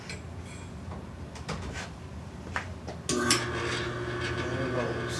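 A 1/3 HP electric motor fitted with a slicer and grater attachment for cheese is handled with a few soft clicks and knocks, then switches on with a sudden steady whirring hum that holds to the end.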